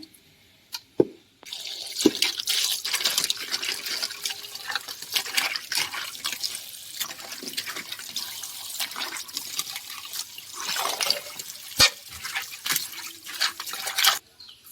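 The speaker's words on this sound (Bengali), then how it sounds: "এক এক করে সব কাঁকড়া বাছা হয়ে গেলে আমি পরিষ্কার করে ধুয়ে নেব" Crabs from the Sundarbans being rinsed clean under running water, with steady trickling and splashing, occasional drips and clatter of shells, close and fairly quiet.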